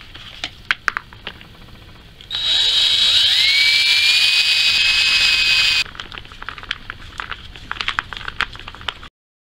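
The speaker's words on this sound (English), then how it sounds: "And drill a hole in here and seat them in and see how they go." A power drill whirs loudly for about three seconds, its whine rising as it spins up, with light tapping and scraping before and after.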